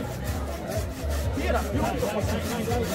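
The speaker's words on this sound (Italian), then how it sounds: "parte la sega a mille" Rhythmic sawing through a log, strokes repeating steadily while a crowd cheers and chatters loudly throughout, at a village palio contest.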